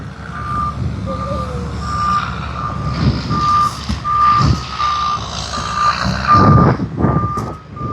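Heavy equipment trucks reverse at an earthmoving work site, a steady string of loud evenly spaced backup beeps sounding over diesel engine rumble and clatter.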